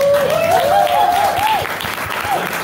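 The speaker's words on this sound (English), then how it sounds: "You can go ahead and give me a round of applause" Small audience applause at a storytelling podcast recording, a close steady patter of clapping under a voice, thinning out toward the end.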